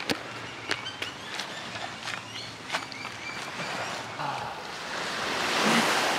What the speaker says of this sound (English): Oh, that's a really cute little beach.